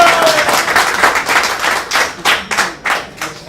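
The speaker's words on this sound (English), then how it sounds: "Come on, you guys, a bigger applause for Kerry." An audience applauds at a boxing press conference in New York City, a dense burst of clapping that thins into a few scattered, separate claps toward the end.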